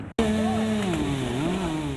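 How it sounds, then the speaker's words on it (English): A chainsaw clears storm debris from a road after a tornado hit a Broward County neighborhood. The engine starts up after a brief silence and then runs steadily and loudly, its pitch wavering as it cuts. "using chainsaws to clear the road"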